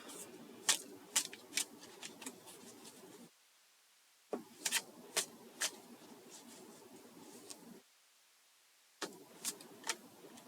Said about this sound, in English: so it'll take me a minute here to shuffle a little bit and get some cards to come out